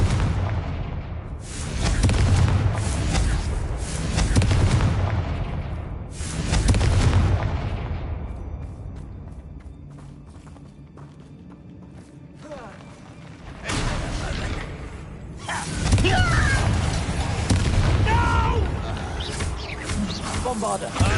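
Confringo fire-blast spells explode in Hogwarts Legacy, heavy booming bursts arriving in several loud waves separated by quieter lulls, with spoken spell calls among the blasts.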